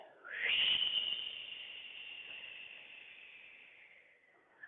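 A single long breathy exhale imitating ocean waves during a children's yoga session, a soft, airy hiss that swells quickly and fades slowly over several seconds, close and alone.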